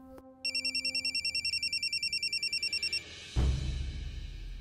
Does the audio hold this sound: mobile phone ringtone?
yes